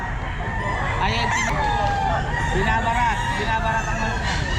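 Roosters crow and hens cluck amid the busy din of a pet market, with voices chattering throughout and the calls standing out at moderate distance.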